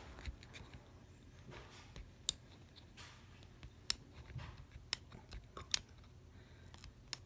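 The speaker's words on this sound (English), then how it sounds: "you can cut off the remainder of the chain here" Scissors snip a few times through an orthodontic power chain with sharp, isolated clicks against quiet handling noise, close and fairly soft.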